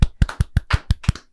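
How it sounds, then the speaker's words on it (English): A handful of hand claps from a small group, about eight evenly spaced loud slaps in a quick steady rhythm, close by and brief. "big round of applause to Lucy Davis on 100K"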